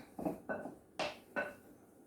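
Four quick scraping clacks of a utensil against a bowl as turkey paupiette filling is mixed, close and fairly quiet, in an irregular rhythm.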